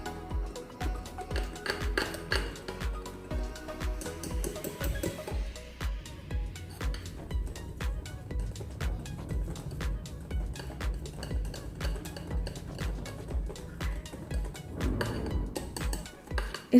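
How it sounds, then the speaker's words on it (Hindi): Semolina and curd batter is stirred in a bowl with a spoon, a run of rhythmic scraping and clinking strokes against the bowl, close and fairly quiet, with no talk. "सभी को अच्छे तरीके से मिला लेंगे।"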